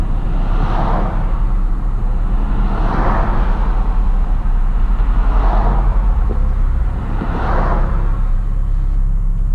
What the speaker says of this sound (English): you can hear, you know, a lot of road noise and stuff like that as far as other vehicles going by